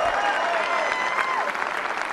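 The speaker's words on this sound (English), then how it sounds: "clap for me, please" Comedy-show audience applauding in a steady, dense wash of clapping that fills the whole stretch, with a faint voice or two threaded through the crowd noise.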